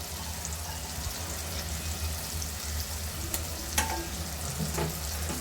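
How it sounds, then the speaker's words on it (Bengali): Dried mola fish fries in a spice paste, producing a steady close sizzle under occasional spoon scrapes and stirring knocks, with no voices. "শুটকিগুলোকে আমি কষিয়ে নেব"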